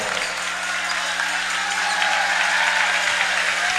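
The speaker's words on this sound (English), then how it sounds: "Good round of applause here for Odo" Applause from the crowd at a basketball game in the 2019 Coal Bowl Classic semi-final as a fouled-out player leaves the court: steady, even clapping that fills the gym, moderately loud over a constant low hum.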